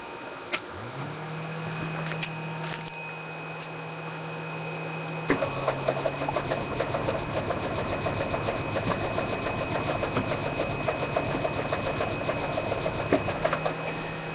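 A new model airplane engine runs at a steady high-pitched whine, then shifts to a harsher, rougher tone partway through, with rattly vibration and no talk over it.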